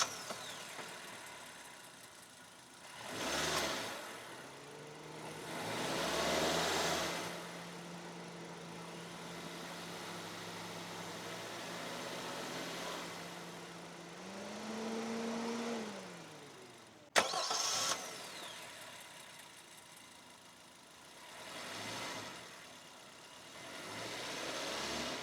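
Toyota Glanza with a 1.2 litre four-cylinder naturally aspirated K12N petrol engine starting up and idling, a soft steady engine hum with a few swells in revs, heard alone.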